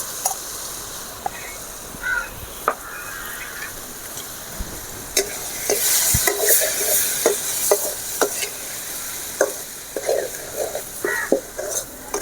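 Vegetables are stirred and sautéed in a pan for a Tamil-style fish curry, with a steady sizzle under repeated scraping and clinking of a spoon against the pan, close and fairly loud.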